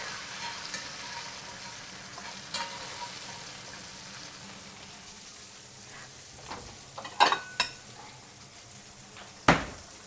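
Onions sizzle and char in a cast iron skillet, a low steady hiss broken by a few sharp clinks and scrapes of a utensil against the pan near the end.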